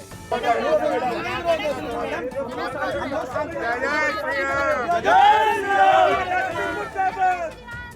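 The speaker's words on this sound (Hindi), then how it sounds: "भीड़ ने जय श्री राम के जयकारे लगाने शुरू कर दिए" A crowd chants Jai Shri Ram slogans with many voices rising and falling in loud, overlapping babble, a swelling surge near the middle.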